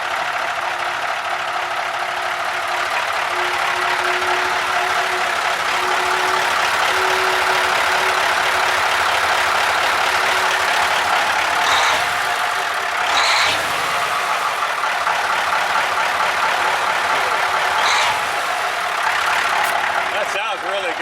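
A Cummins 903 diesel engine in a 1972 White Motors cabover truck idles steadily with a low, knocking rumble throughout, while people talk nearby over the running motor.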